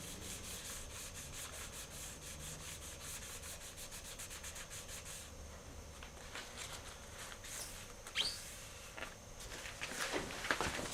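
Clear lacquer being sanded on a Stratocaster guitar neck, rapid rhythmic rubbing strokes close by for about five seconds, then slower, quieter scuffs with a few handling knocks.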